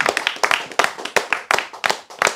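A small group claps in a quick, rhythmic burst during a religious lecture, with distinct close hand claps in uneven clusters and brief gaps between them.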